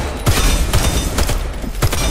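A weapon in the shooter Warface fires in loud, close bursts, several sharp reports in quick succession spread across a couple of seconds, with no voices over it.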